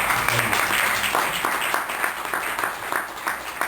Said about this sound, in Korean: 박수로 여러분